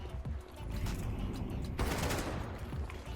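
Gunfire from a Counter-Strike match on the Dust2 map, a sniper rifle among the shots, dense and continuous with a sharper burst partway through, busy game noise throughout.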